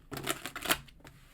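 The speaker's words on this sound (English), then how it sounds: "It's really hard to shuffle these ones because they're a very thick cardstock." Thick cardstock tarot cards are shuffled by hand, a quick burst of papery riffling and flicking at close range, fairly quiet and lasting about a second.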